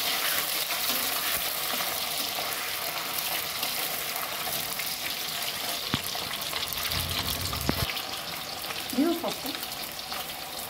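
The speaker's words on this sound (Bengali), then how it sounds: "পনিরটা প্রথমে ভেজে তুলে নেব।" Paneer frying in hot oil makes a continuous bright sizzle close up, broken by a few utensil clinks and scrapes, with a brief faint voice near the end.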